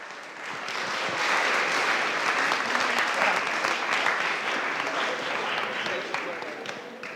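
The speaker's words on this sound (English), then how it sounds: "let's give all of them a very big round of applause" An audience applauds at an art prize opening and presentation ceremony, the clapping building within the first second and holding steady, moderately loud, before tapering slightly.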